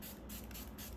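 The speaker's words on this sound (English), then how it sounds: "Now I'm going to set my face using the Mars Seal the Deal setting spray." Mars Seal the Deal makeup setting spray misted onto a face, a steady close hiss lasting about a second with brief dips, and no talking.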